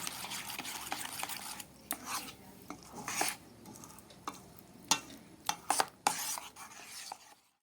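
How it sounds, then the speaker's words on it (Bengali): Batter fries in oil in a pan amid irregular clinks and scrapes of a utensil against cookware, with sizzling underneath and several sharper metallic taps; no talking. "তো চলো এবার এটাকে মানে তেল দিয়ে ভাজতে হবে"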